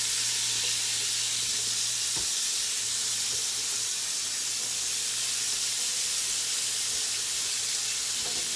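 Korean BBQ kalbi ribs cooking on a hot surface give a steady, even sizzle and hiss throughout, with a faint low hum underneath and one sharp tap partway through.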